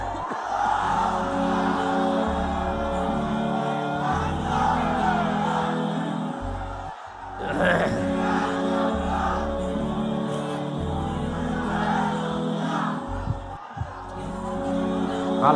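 A rally crowd chants back in answer to a takbir call, massed voices rising in loud repeated waves with a short break midway, drowning out everything else.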